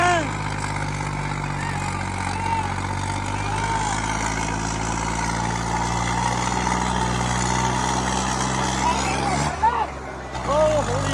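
A Swaraj 855 tractor engine rumbles steadily up close, then drops off abruptly near the end, while voices talk over the noise.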